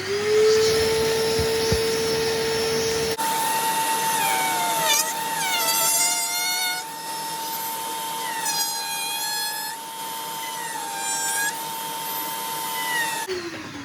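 Tools cutting and trimming the canopy opening of a composite glider fuselage, a steady high-pitched whine with rising and falling sweeps as the cutter moves along the trim line, loud and close with no talk.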